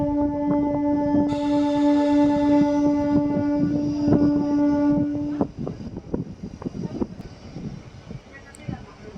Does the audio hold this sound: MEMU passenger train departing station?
yes